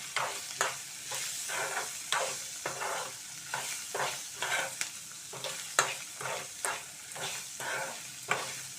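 Ginger pieces fry with salt in a pan for ginger chutney, a steady sizzle broken by regular spatula scrapes and stirs, close and clear with no talking.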